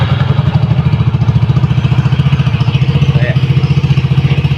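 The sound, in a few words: Honda Mio i 125 motorcycle engine with open muffler pipe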